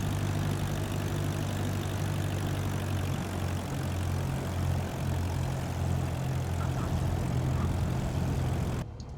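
Propeller airplane idling and taxiing after landing in Microsoft Flight Simulator 2024, a steady, even engine drone with a low, constant hum that cuts off at the very end.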